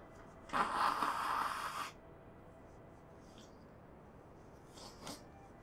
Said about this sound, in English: I am a bit bunged up, so forgive me for uh, blowing my nose halfway through a video